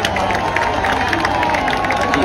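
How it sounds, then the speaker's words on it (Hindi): Large stadium crowd at a fan meetup at Tau Devi Lal Stadium, a dense continuous roar of clapping and cheering, loud and sustained throughout. "तो एक बार इनके लिए जोरदार तालियां"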